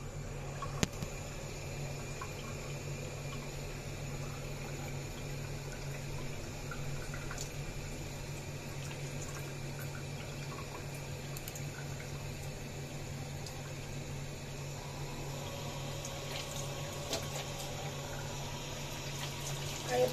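Water runs steadily into buckets set out to soak an Indian tortoise. The flow is a faint, even rush that lasts the whole stretch with no talking.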